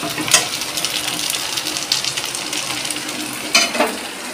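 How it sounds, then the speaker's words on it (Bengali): Potato and coriander-leaf fritters fry in oil with a steady crackling sizzle, broken by a few sharper bursts of spatter and clinks of a utensil. "মা এখন বড়া ভাজছে দুপুরে খাবো তাই আলু আর ধনে পাতা দিয়ে"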